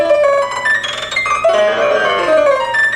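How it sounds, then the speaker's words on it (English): Rapid synthesized MIDI notes fire once per video frame, forming a fast, continuous run of bright, shifting pitches that glides up and down for a few seconds with no voices. "if you send out one note per frame, it sounds like this"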